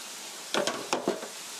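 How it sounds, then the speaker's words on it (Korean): Cut potatoes and carrots tipped into a hot pan for curry rice, giving a few quick bursts of sizzling that rise and fade within about a second. "여기에 아까 썰어 놓은 포테이토, 캐럿, 당근 넣어주세요"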